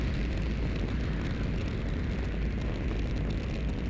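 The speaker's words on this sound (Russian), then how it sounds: "Просто запустить ракету в небо" A rocket launch in the video game Black Mesa produces a steady, broad roaring rush of noise, loud and continuous with no distinct bursts.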